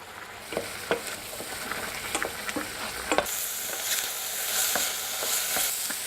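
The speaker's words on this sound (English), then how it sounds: "Add a bit of water so it steams up." Vegetables in a hot pan with pine nuts hiss and sizzle as water hits them, with stirring clicks and scrapes at first, then a louder burst of steam that keeps hissing.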